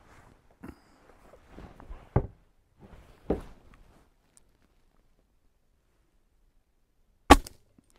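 A Gamo Swarm Magnum .177 caliber air rifle firing on an outdoor range, a few sharp isolated cracks spaced seconds apart, with quieter clicks and handling noises between them.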